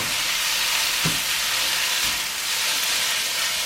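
Singapore noodles with vermicelli stir-fried in a hot wok, a loud steady hissing sizzle with a couple of soft scraping stirs, close and without talk.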